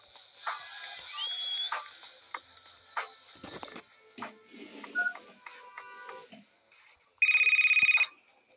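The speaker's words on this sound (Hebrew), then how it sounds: "והיא רואה שהטלפון מצלצל" Telephone in a kids' animated game: scattered chirps and electronic blips, then a loud sustained electronic ring near the end, heard alone without talking.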